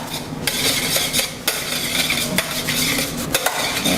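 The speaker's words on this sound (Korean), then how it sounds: "이렇게 스크램블을 덮듯이 막 저으시면 더 훨씬 부드러워" A utensil stirs scrambled eggs in a pan over low heat, sweeping the curds with steady scraping and clinking against the metal. Faint sizzling runs underneath, and several sharper knocks punctuate the stirring. No one speaks.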